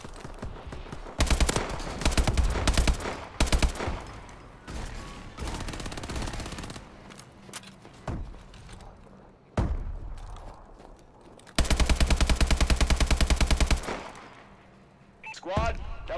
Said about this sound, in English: Dude, I spawned in this room and I'm getting shot.